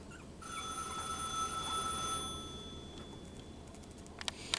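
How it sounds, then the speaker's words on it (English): A telephone keeps ringing in steady tones that stop about halfway, indoors in a room with a litter of three-week-old puppies, followed by a few faint clinks and taps near the end. "Sorry about the phone."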